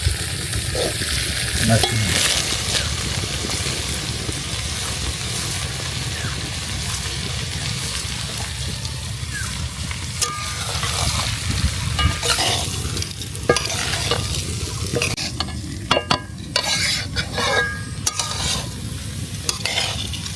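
Washed rice and native red lentils stir-fried in a pot for Bengali bhuna khichuri, with steady sizzling and repeated scraping and stirring strokes running loud and close throughout, no talking.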